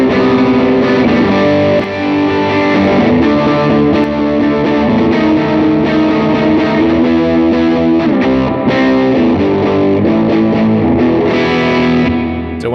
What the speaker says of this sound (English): I'm going to crank the preamp gain, and you're going to hear all that crackle, harmonic, and distortion